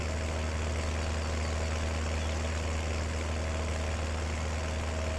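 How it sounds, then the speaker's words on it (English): A tractor engine with a muffler idles in Farming Simulator 19, a steady low rumble with a constant droning hum, loud and unbroken, with no voices. "I think I've got a muffler on this tractor."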